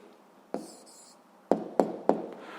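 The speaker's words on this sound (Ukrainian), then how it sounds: "Пишемо відповідь." Answer written by hand during a sixth-grade maths exercise: a soft scratchy stroke of writing, then several crisp, close taps of the pen or chalk in quick succession, fairly quiet.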